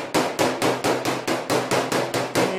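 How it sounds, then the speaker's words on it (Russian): Hammer tapping sheet metal during paintless dent repair on a Daewoo Gentra body panel: about ten loud, sharp, evenly spaced metallic strikes in a steady rhythm, close up with no talk. "мы это колотим, перераспределяем металл. Молотков, слава богу, хватает."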